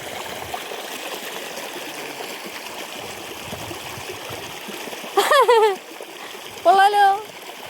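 Someone wading through a shallow stream, with continuous close splashing and trickling water throughout and two short bursts of voices near the end.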